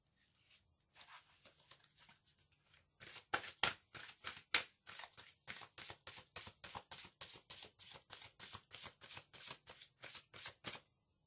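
Tarot cards are shuffled in a long run of quick, crisp riffling flicks, faint and sparse at first, then a steady close rhythmic patter of card snaps that lasts to the end.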